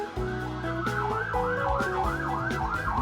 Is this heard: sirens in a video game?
yes